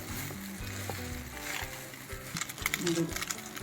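Vermicelli upma with salt sizzles in a pan while being stirred, a steady close frying hiss with soft scraping, heard under a voice speaking throughout.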